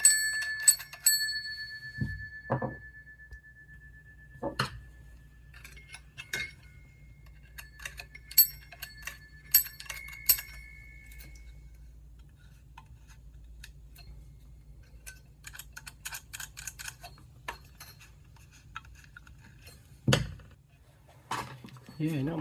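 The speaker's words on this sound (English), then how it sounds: "See, two huge bells." The two large metal bells of a 1970s rotary telephone ding and ring in short scattered bursts between quiet stretches, with bright ringing tones, occasional knocks and clicks, close and fairly faint.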